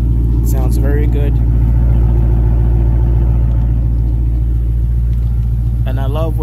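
A 2006 Chrysler 300 SRT8 engine rumbles with a loud, deep, steady low drone throughout, and a voice speaks briefly near the start and again at the end.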